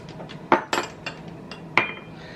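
A spoon works flour and chili powder into browned ground meat in a pan, giving a few sparse metallic knocks and scrapes against the pan, close by, with no talking.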